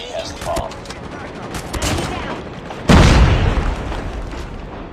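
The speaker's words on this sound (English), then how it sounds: "Watch out, grenade!" A grenade blast booms loud and close in a mobile shooter game, rolling into a sustained roar after scattered gunshots, with voices calling out in the game.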